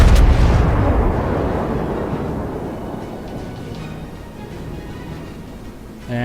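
Heavy naval gunfire from the battleship Konig in World of Warships, a loud booming salvo at the start that rolls off into a long fading rumble, with a smaller thud near the end.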